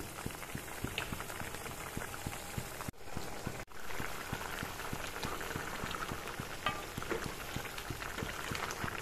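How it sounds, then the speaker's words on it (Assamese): Pineapple curry simmering in a pot, a continuous close bubbling with steady rhythmic pops under a hissing bed, briefly interrupted by two short dropouts. "এনেকৈ উতলি থাকিবলৈ দিম"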